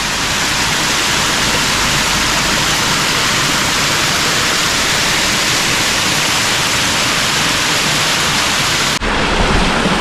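Wadakada waterfall roars as a steady, loud, broadband wash of falling water, close and continuous, with the texture shifting slightly near the end.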